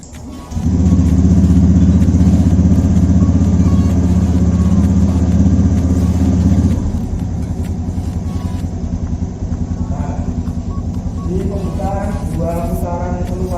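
An automatic motorcycle idling at about 1200 rpm with a tachometer clipped to its spark plug, producing a steady, close engine hum that eases slightly partway through while a voice talks over it.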